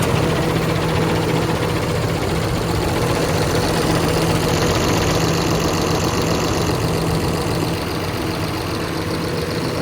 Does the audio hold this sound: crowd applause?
no